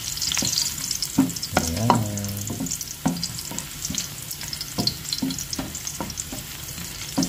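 Garlic sautéing in a frying pan, a steady sizzle of oil with repeated scraping stir strokes from a spatula, close and fairly loud, and a brief spoken word partway through.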